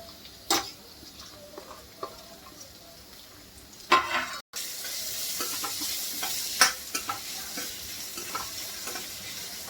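Chopped onion goes into hot oil with curry leaves, then sizzles steadily in the pan while a spoon stirs it, with a few sharp scrapes and clicks over the constant frying hiss.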